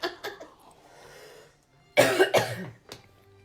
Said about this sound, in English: Oh no, I don't want to cough.